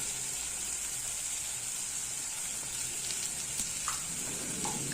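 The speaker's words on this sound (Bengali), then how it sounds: "3টে সবজি দিয়ে ভালোভাবে কষিয়ে নেব।" Mixed vegetables fry with spices in a hot pan, giving a steady close sizzle and hiss, with a few faint clinks of stirring and no talk.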